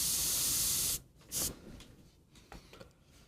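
An airbrush sprays paint in a loud steady hiss for about a second, then gives a second short burst, followed by quieter handling noises.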